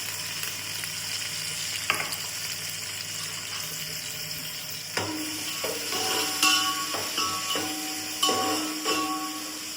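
Chopped onions sautéing in a pan for chicken biryani, a soft steady sizzle with intermittent clinks and scrapes of stirring that grow louder and more frequent in the second half, close by.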